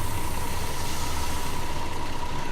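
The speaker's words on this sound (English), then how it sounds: "Turn the engine off." A coach bus engine idles in Fernbus Simulator, giving a steady, even low drone with a faint constant hum on top and no other sounds.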